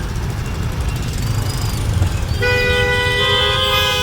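A car horn honks in Pune evening traffic, holding a sustained toot over the last second and a half above a steady low rumble of engines and road noise.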